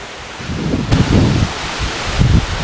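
Agaya Gangai waterfall in the Kolli Hills gives off a steady broadband rush of spray and falling water, with gusty, rumbling wind buffeting the microphone in close, loud bursts.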